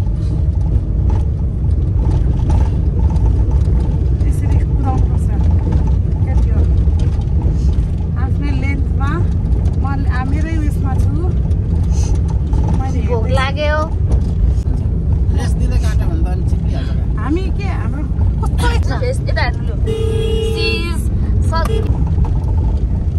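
A car accelerating in second gear during a driving lesson, its steady engine and road noise droning loudly throughout, with mechanical clicks and people talking over it inside the cabin.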